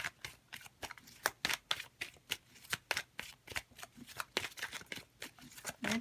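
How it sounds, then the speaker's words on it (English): Tarot cards are shuffled by hand in a steady run of crisp riffling slaps and flutters, close and fairly quiet, with no talking. "This is going to be shuffled on the spot for you"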